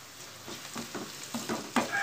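A spatula stirs a chilli- and turmeric-spiced onion mixture in a hot pan for Indian-style macaroni, producing a quiet sizzle broken by a regular series of soft scraping strokes about every quarter second.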